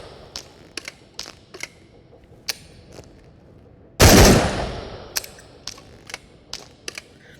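A double-barrel shotgun in the Into the Radius VR game fires one loud blast with a decaying tail, set among scattered clicks and clacks of handling and reloading before and after.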